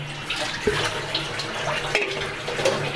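A plate and bowl being washed under a running tap: steady splashing water with intermittent clatters and knocks of dishes close by, and no voices.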